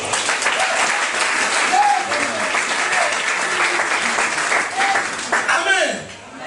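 A church congregation applauds in a sustained, loud wash of clapping, with voices calling out over it, before the sound tapers off at the end.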